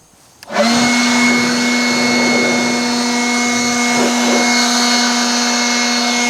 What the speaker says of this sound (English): Now let's see how well I can blow dry it versus the other side.